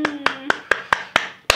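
A run of seven sharp hand claps in a steady, fairly quick rhythm, close and loud, with a faint hum of voice in the background.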